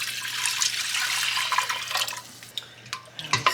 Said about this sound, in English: We're going to add our broth.